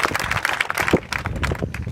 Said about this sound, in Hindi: सतीश के लिए जोरदार ताली बजाएं।